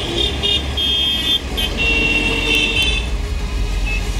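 Dense Indian city traffic with car horns honking repeatedly over a steady roar of engines, continuous and loud throughout, with several overlapping tones.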